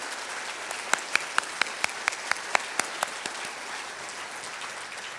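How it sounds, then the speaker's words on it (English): Audience at a university anniversary ceremony in Hong Kong gives a round of applause, a steady crowd clapping with a few loud distinct claps standing out near the microphone. "please join me to have another round of applause to our Chief Executive, Mrs. Carrie Lam."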